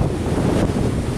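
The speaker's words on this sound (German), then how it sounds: "Das Ding hat 110er Böen schon in Eindhoven gebracht." Strong storm wind gusts during a severe thunderstorm with a shelf cloud: loud, continuous roaring buffeting of wind against the microphone, with no pause.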